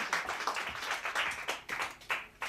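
A church congregation claps rhythmically in acclaim during a worship service, steady overlapping handclaps repeating at a quick pulse, moderately distant and fairly soft.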